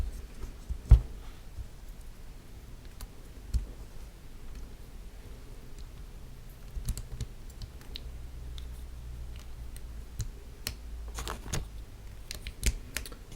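Someone types on a mechanical keyboard fitted with Holy Panda tactile switches. The key clacks come sparse and irregular against a low steady hum, quiet overall with a few sharper strikes.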